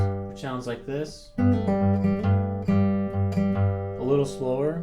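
Fingerpicked acoustic guitar plays an alternating bass pattern, steady plucked notes ringing clearly and close with no voice over them.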